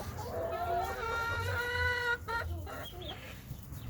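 Brown Brahma hen clucking up close, a run of drawn-out harmonic squawks followed by a few shorter clucks, loud and clear with faint background noise and no speech.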